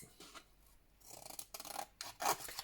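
Scissors cutting through plain white card from a household box, a few short rasping snips that grow louder and closer, with no talk over them.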